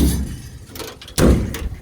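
Utility bed compartment doors on a 2022 Ford F-350 XL regular cab being shut, two solid thuds about a second apart, close by, each with a short metallic ring afterward.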